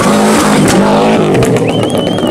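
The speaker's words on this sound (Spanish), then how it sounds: "Lanzamos explosiones, literalmente, o sea, con gasolina, hacemos explosiones para que el turbo se vaya cargando todo el rato" A Subaru rally car fitted with a new turbo and an anti-lag system revs loudly up close, its engine note broken by sharp exhaust pops and bangs.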